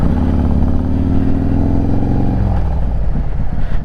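A motorcycle ridden downhill with the rider tucked low, the engine a loud, close drone whose pitch slides gradually downward before a rougher patch of wind buffeting at the end.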